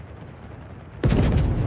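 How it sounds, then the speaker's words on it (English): Anti-aircraft guns firing from a warship in a naval video game, a loud sustained burst of rapid booming fire erupting abruptly after a second of quiet low rumble and continuing to the end. "Anti-aircraft fire support."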